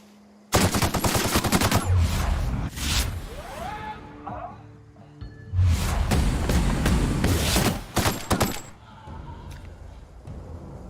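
Shotgun gunfire in the video game The Outer Worlds rings out in two loud bursts of rapid, heavy blasts separated by a brief lull, with clanking game effects and whooshes between them.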